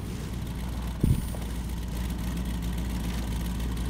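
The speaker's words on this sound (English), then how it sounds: "I can hear your engine." A video game truck engine idles in a low, steady rumble, with a brief bump partway through and no talking.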